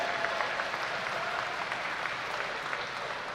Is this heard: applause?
yes